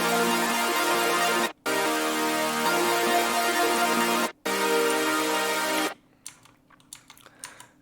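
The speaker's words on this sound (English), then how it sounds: "But with the saw wave together, like with our stack here" Bright sawtooth synths layered over a stacked chord in a future bass production sound as sustained, full chords. Three loud blocks are broken by short gaps, and faint clicking follows at the end.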